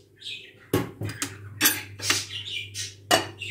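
A pot holding bulgur soaked in hot water is covered with its lid and set aside, giving several sharp metallic clinks and knocks at irregular intervals over a low steady hum, close by, with no talking.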